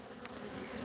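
Honey bees in a hive give off a dense, steady buzzing hum, faint and continuous, with no other sounds over it.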